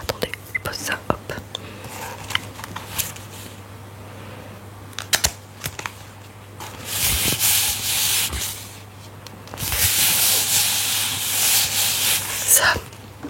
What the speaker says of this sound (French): j'aimerais entendre du rubbing